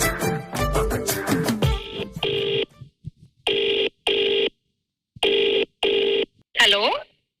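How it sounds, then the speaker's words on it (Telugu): Touch-tone keypad beeps dial a phone number on a Telugu TV dance show: a string of short, evenly spaced tones sounding one after another. They follow lively talk, and a voice comes in briefly at the end. "నేను ఒక ర్యాండమ్ నెంబర్ కి ఫోన్ చేస్తా"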